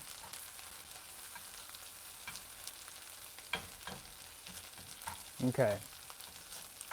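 Meat frying on a griddle for Hiroshima-style okonomiyaki gives a soft, steady sizzle under a low hiss, with a few faint scrapes and one brief spoken word near the end.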